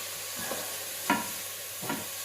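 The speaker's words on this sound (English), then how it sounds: "I love like the sizzle of like the onions" Onions frying in a pan for a lamb curry, giving a steady faint sizzle with a few louder stirring scrapes at intervals and no talking.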